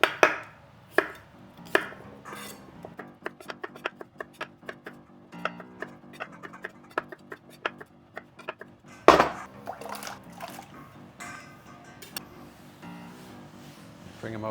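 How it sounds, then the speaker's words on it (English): Knife chopping potatoes on a cutting board, sharp close taps in quick, uneven runs with brief pauses, one louder clatter midway, and faint kitchen background between cuts. "If they're a little bit big, I'll cut them into 6 or even halves."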